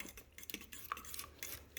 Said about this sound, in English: I'm going to stir this for a while, get it all incorporated